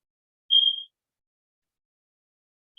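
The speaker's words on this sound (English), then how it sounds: "That beeping sound is actually, I think that's actually my smoke alarm." A single short high-pitched electronic chirp from a smoke alarm, then silence, and another chirp beginning at the very end.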